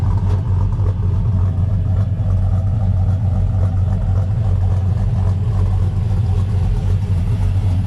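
A steady, deep engine rumble runs throughout from a 1994 Chevy Silverado pickup with a swapped LS V8, idling loud and close with no speech over it.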